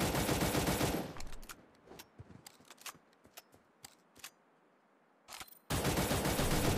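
Gunfire in the video game Cyber Hunter: a loud burst of automatic fire, then a string of sharp, close single shots with short gaps, ending in another sustained loud burst.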